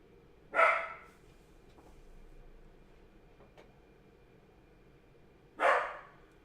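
A dog gives two loud single barks several seconds apart indoors, over a faint steady background hum.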